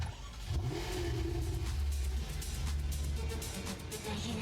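A Porsche engine revs in a video game, a steady mid-pitched roar that swells and holds close and loud for the full few seconds, with no talking over it.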